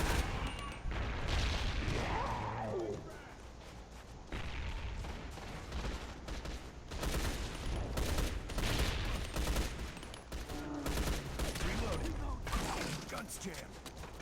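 Gunfire in a video game, with rapid bursts of automatic shots and scattered single cracks running almost continuously, dense and close, under intermittent talk and some mechanical clatter.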